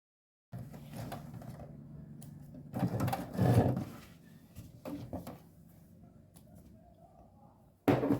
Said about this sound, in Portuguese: passo uma costura com o pezinho de máquina aqui